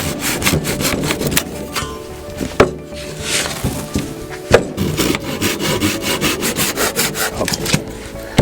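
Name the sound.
hand sawing an old wooden pallet apart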